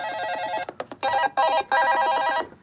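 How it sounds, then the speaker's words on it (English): A phone alarm rings loudly and nearby in repeated electronic bursts, a few short pulses followed by longer sustained tones, alone with no talking. "I gotta shut the alarm off on the phone."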